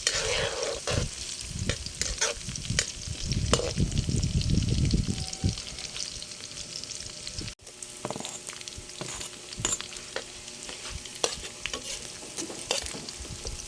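Ginger, garlic and chili frying in a pan for bopis, with a steady sizzle under repeated scraping strokes of a spoon or spatula; the sizzling is louder early on, then settles into quieter stirring.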